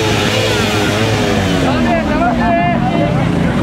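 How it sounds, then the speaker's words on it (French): Sports cars and sport motorbikes roar past one after another on a busy road, engines revving loudly and continuously with rising and falling pitch, close by, while people talk over the traffic noise. "Toutes les voitures de sport, les motos de sport, elles sont toutes de sortie"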